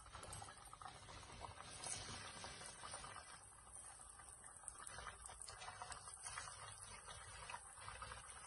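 Samosas frying in hot oil make a steady, faint, bubbling hiss with a soft crackle. The sound keeps on evenly throughout, with no voices.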